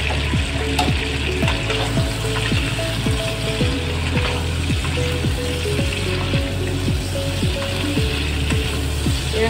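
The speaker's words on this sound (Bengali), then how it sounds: "ছোটো ছোটো নতুন আলু এক বাটি নিলাম। এবার এগুলোকে ভেজে নেব।" Small new potatoes frying in a pan with salt and turmeric for a Bengali cauliflower-potato khichuri, giving a steady, close sizzle with a quick rhythmic clicking running through it.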